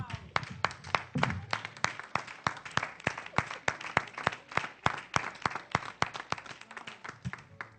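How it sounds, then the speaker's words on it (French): A church congregation gathered for a sermon claps in a steady, sharp rhythm of rather quiet hand claps, with a voice heard briefly near the start. "On acclame la parole de Dieu."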